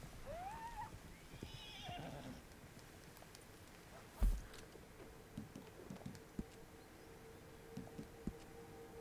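A horse in a video game gives a rising whinny at the start, followed by scattered soft thumps and clicks, fairly quiet overall.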